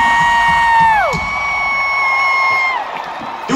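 A live concert crowd at a 2022 show in Dallas's American Airlines Center roars and cheers continuously, loud and dense throughout, with sustained whistling tones riding over the crowd noise.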